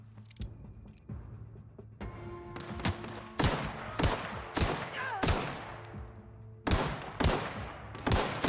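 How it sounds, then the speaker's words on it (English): Gunfire from the video game The Outer Worlds, a series of about eight loud, sharp shots spaced roughly a second apart, each with a quick decaying tail, over faint game background sound and no talking. "I'm gonna shoot right over his shoulder."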